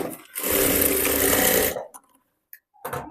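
Sewing machine stitching a salwar in one short, fast burst of close needle chatter lasting over a second, followed by a few light handling clicks and a brief restart.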